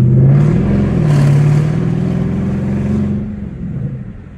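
A car engine revs steadily while a child is being taught to drive, a loud continuous drone that holds through most of the moment and eases slightly toward the end, with no talk over it.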